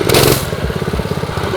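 A small gas-powered minibike engine built from scrap metal chugs at idle in a rapid, uneven putter, loud and close, with a brief burst of noise at the start.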